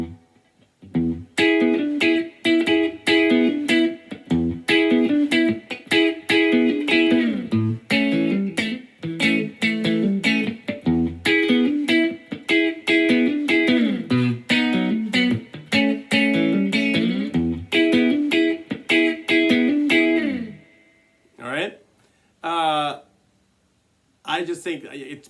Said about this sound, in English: You could do the whole thing with just your pick and not using your fingers